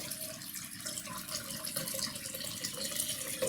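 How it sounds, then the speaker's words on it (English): Water runs steadily into a cauldron during an outdoor Celtic Lughnasadh festival ritual, a continuous close trickling pour with a soft splashing hiss, heard on its own without speech. "And we now bring that water as a foundation into our cauldron."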